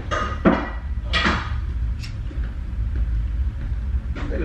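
Pots and pans clatter in a kitchen, with sharp metallic knocks and scrapes over a low rumbling background, heard close and fairly loud.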